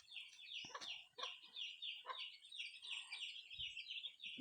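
Chickens cluck and chatter nearby, with continuous high bird chirping layered over the scene and no talking.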